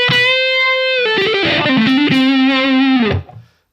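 Electric guitar through a triangle fuzz on a Line 6 HX Stomp, playing a long sustained note and then a bent, distorted phrase, loud and thick before cutting off.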